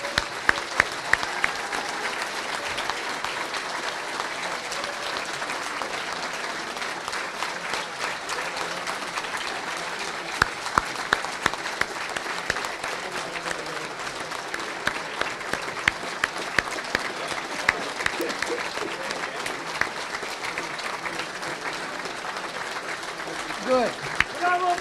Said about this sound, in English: Please applaud to organization of